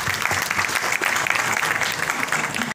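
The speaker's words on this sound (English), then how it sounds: "Please welcome with a round of applause." Steady applause from an audience at a government car safety programme launch, a dense continuous patter of clapping with no gaps, fairly loud throughout.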